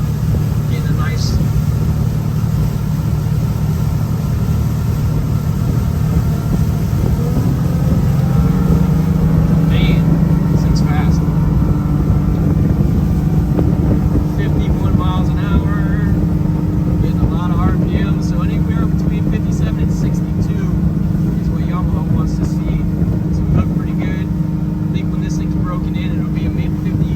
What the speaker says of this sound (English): getting a nice